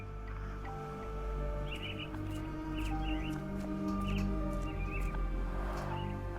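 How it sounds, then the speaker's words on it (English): Caged mynah birds chirp in short repeated bursts, fairly faint against a steady low background hum with scattered tonal calls. "Minor birds, if I'm not mistaken. Beautiful creatures. Sad that they're caged here."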